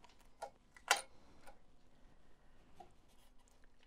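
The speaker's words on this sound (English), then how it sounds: "Clicking the switch." A small switch on a 1:8 scale model Aston Martin DB5 clicks sharply once, with a fainter click just before it, close up and quiet, followed by faint ticking.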